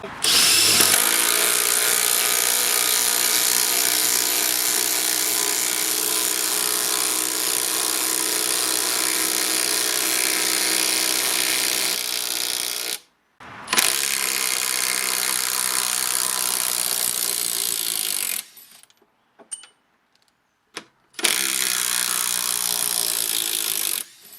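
A Makita impact wrench driving 100mm stainless coach screws, a loud, close, continuous rattling hammer lasting over ten seconds, then shorter bursts broken by brief pauses, with no talk.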